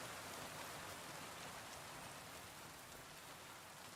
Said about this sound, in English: This game's rain is very weird because the storms sound good